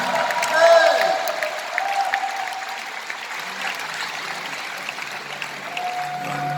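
Audience applause, a dense patter of clapping that swells early and then thins to a steady lighter round, with voices mixed in.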